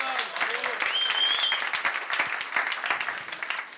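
Applause from an audience at a live corporate evening event in France, a dense, steady clatter of clapping hands that holds up for several seconds, with a few voices murmuring underneath.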